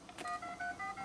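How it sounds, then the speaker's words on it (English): A mobile phone in a home rings or sounds off with a repeating series of short electronic tones in stepped pitches, clear and fairly close, with no talking over it. "Is that your phone?"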